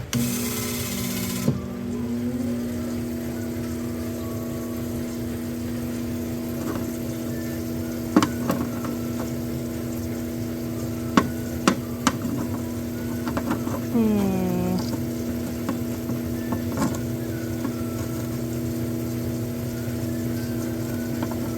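Lapidary trim saw spinning up and running steadily through a piece of porphyry stone, a constant motor whine with strong tonal bands, occasional sharp clicks and a rising whir as the blade engages; a voice speaks briefly at the start.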